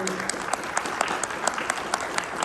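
Audience applause at a panel discussion on pretrial detention in Puebla, a steady patter of many hands clapping together with sharp individual claps standing out, filling the hall without voices.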